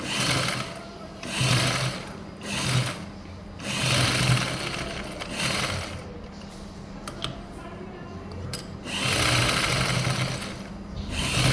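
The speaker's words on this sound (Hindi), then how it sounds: "और अब एक पंजे की सिलाई इसके ऊपर और लगा दूंगी ऐसे" A presser-foot line of stitching on a blouse sleeve comes from a sewing machine running close and loud in repeated rattling bursts with short stops, over a steady background hum.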